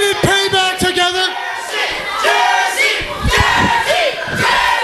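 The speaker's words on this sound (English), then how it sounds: "Wow, this crowd wants the Jersey Devil." A wrestling arena crowd chants and cheers for the Jersey Devil, loud rhythmic shouts rising and falling in repeated bursts, close and full throughout.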